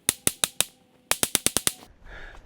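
A .22 Long Rifle firearm shot at a tree, two rapid bursts of sharp cracks, four shots and then six, each snapping out and fading quickly, followed by a short rustle.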